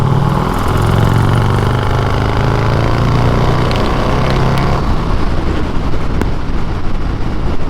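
A 223hp turbocharged Harley Davidson motorcycle accelerating hard in fifth gear during a roll-on race, its loud, close engine roaring steadily with a rising pitch and wind rush throughout.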